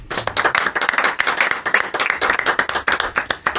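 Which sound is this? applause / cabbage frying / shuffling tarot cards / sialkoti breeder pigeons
applause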